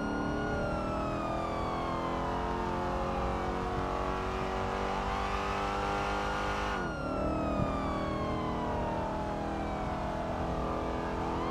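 A car speeding through a police chase in GTA 5 runs at a loud, constant engine whine as a wailing siren sweeps across it. Around the middle the pitch dips sharply and then recovers. No one speaks.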